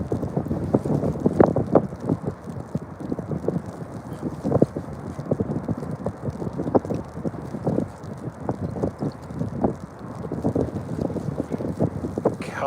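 Wind on open water during a striper fishing trip buffets the microphone with continuous low rumbling and irregular gusty thumps, loud and unbroken for the whole stretch, with no voices.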